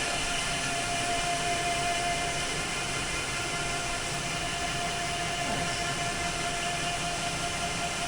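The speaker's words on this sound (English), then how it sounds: "This one has the stirrer on the bottom. I think I can hear" A motorized stirrer mounted on the bottom of a robot feeding system gives a steady, continuous mechanical whir with a faint high whine, running unbroken throughout, with no voices.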